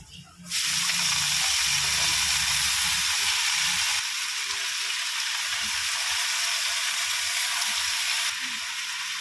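Chopped water spinach drops into hot oil with already-fried onion, garlic and green chili, setting off a loud, steady sizzle that fills the pan. A short burst of low clatter comes first, then the frying hiss runs on without a break.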